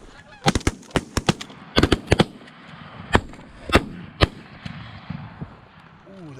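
Shotguns fire at a low-flying flock of geese during an opening-day goose hunt, a rapid volley of sharp close blasts with honking geese overhead and excited voices between shots.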